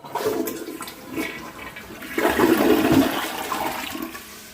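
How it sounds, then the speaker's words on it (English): A toilet flushes during bathroom cleaning, a loud rushing gush of water that swells midway and then drains steadily, with no talking. "you'll flush."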